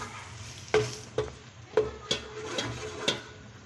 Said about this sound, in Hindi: और अब मैं इसमें नमक, मिर्च और हल्दी डाल रही हूँ और हम इसका मसाला भूनेंगे